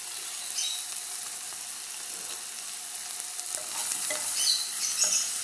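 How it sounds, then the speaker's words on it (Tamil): Salted onions sizzling in a pan on the stove for chicken roast gravy, a continuous close hiss that swells slightly toward the end, with faint stirring taps and no talk. "ஸோ இது கொஞ்சம் வதங்கட்டும்"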